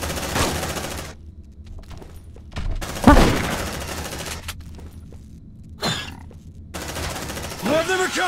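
Shotgun blasts and gunfire erupt in the Aliens: Dark Descent video game, loud sharp bursts separated by quieter gaps, with one heavy close shot standing out and a voice talking briefly alongside.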